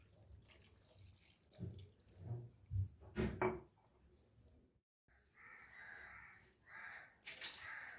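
Two cups of water poured into a cooking pot for a prawn and drumstick curry, a splashing, gurgling pour in uneven bursts with a short gap, close and fairly quiet.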